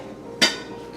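A spoon pressing Bordelaise sauce through a fine chinois into the pan below gives a single sharp metallic clink, ringing briefly before a quiet kitchen background returns.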